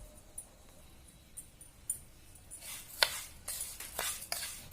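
Crispy fried moong dal being tossed with salt in a metal bowl, giving light scattered clinks and a rattling stir that builds into several louder scrapes toward the end, close by with no talk.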